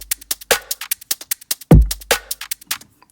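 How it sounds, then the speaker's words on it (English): A default, unprocessed drum loop: crisp dry hi-hats ticking in a steady pattern with a couple of deep kicks and a snare hit, clean and upfront with no voice. "I've got a drum loop here"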